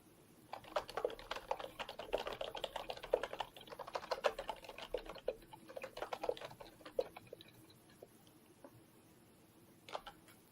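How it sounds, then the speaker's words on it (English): Rapid clacking keystrokes on a loud ergonomic computer keyboard, steady bursts of typing at close range that thin out toward the end with a few isolated taps, no voices. "I gotta start doing that. My keyboard is loud."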